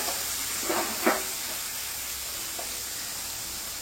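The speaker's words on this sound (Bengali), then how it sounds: "তো এবার আমি এখানে সবকটা পেঁয়াজ দিয়ে দেব। পেঁয়াজটাকে আগে ভালো করে ভাজতে হবে।" Chopped onions fry in a hot pan for a Bengali pointed gourd and prawn dish, giving a steady close sizzle and hiss with a couple of soft clinks near the start.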